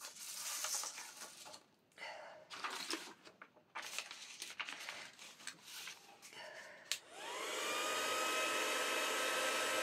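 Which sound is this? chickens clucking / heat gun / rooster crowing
heat gun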